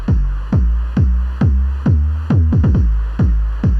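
A synthesized kick drum thumps about ten times with a deep pitch sweep, steady at first and then in a quicker cluster, loud and up front.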